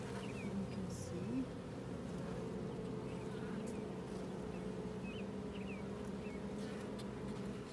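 A honeybee colony hums inside its hive just after the queen has been released from her cage, a steady, dense drone that holds close and even throughout with no break.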